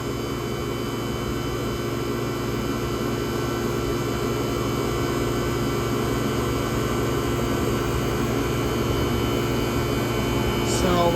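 A 1978 Comfort-Aire Quietmaster air conditioner runs on its first major run, giving a loud, steady hum with a constant fan whoosh and tonal drone that stays unchanged throughout.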